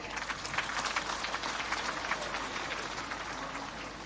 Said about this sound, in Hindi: उनके लिए एक बड़ा ताली तो हो जाए